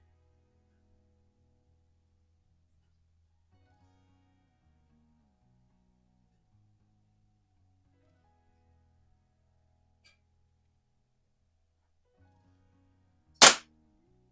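A single sharp crack from a Baikal IZH-46M target air pistol fired at a paper target, near and loud, set against long near silence.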